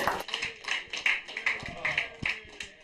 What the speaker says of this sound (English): you can hear everybody clapping their hands